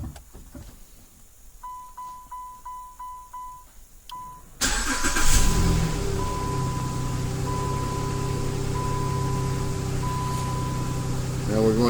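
A Chrysler, Dodge or Jeep vehicle starts by remote start: a series of short electronic chirps, then the starter cranks briefly and the engine fires into a loud, steady idle that runs close by for several seconds.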